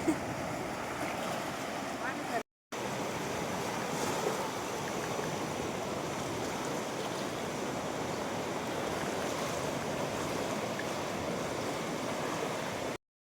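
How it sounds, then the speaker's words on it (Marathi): Loud, continuous rushing of the flooded Purna river, a broad roar with wind buffeting the microphone and a brief dropout early on. "बघा मित्रांनो, आपल्या नदीला महापूर आलेला आहे."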